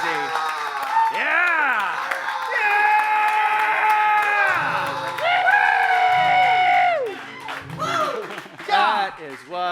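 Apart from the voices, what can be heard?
audience applauding and cheering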